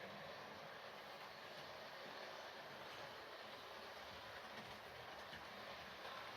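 Hornby 4-4-0 County class model locomotive running smoothly on its track, giving a steady, continuous rolling rumble with a faint clickety rhythm that holds at an even, moderate level throughout, with no talk.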